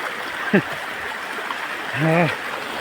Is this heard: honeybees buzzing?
no